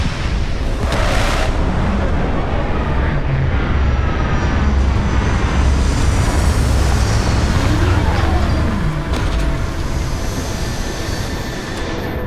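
A spacecraft coming in to land, a loud sustained roaring rumble with deep low-end thunder and a rising whine layered above, steady throughout.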